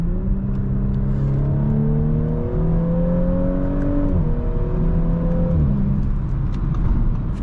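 A 2018 Audi S4 engine accelerating hard, its note climbing steadily in pitch, dropping at several quick gear changes, then climbing again. Steady, close, with no voices.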